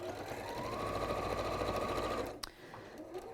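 A sewing machine stitches a tote bag seam in one steady, fairly close run that stops abruptly, followed by a sharp click and quieter handling sounds.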